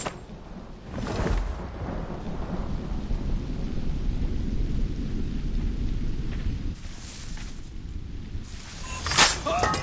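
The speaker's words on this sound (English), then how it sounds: "The storm's getting worse." A thunderstorm rolls in the game Assassin's Creed Rogue, with a steady roar of heavy rain and wind and sharp thunder cracks near the start and end.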